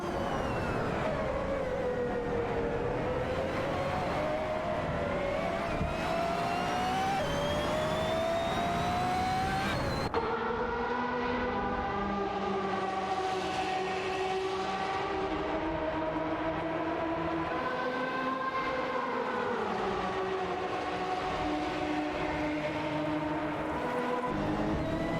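Race cars, including a Mercedes and a Ferrari 488 Challenge, in a racing video game, engines droning steadily with rising and falling pitch as they jockey for position, continuous and loud with no talk.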